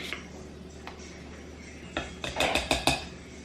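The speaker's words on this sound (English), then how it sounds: "you're just gonna mix it all together." Dry banana bread ingredients, including baking soda, salt and cinnamon, get mixed in a bowl. A quiet start gives way to a quick run of close clinks and scrapes from the utensil against the bowl near the end.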